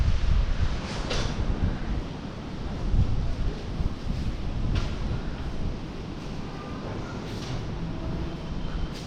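Strong wind roars and buffets continuously ahead of heavy rain, a loud rumbling gust that barely lets up from start to finish.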